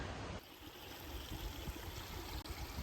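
A small creek on a rocky hiking trail gives a soft, steady babble and trickle of flowing water, faint but continuous with no talk.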